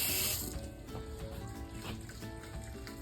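Steady running water from a garden hose pours and drains on a makeshift outdoor processing table used for a meat bird harvest, with a continuous splashing trickle throughout.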